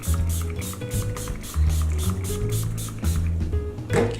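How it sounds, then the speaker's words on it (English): Several quick bursts of alcohol are pumped from a hand spray bottle over fresh cold-process soap bars, a series of short hissing spritzes with trigger clicks over a mechanical hum in the background. "I'm gonna spray the whole thing with a little bit of alcohol and see if that will help it stick"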